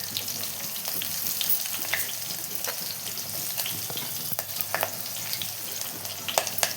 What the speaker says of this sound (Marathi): लसूण टाकून घेऊयात